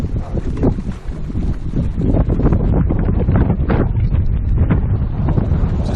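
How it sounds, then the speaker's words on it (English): Strong wind roars steadily across the microphone out on Pyramid Lake from a fishing boat, with loud, continuous buffeting gusts and rumble filling the whole stretch. "we're sitting in a ton of wind"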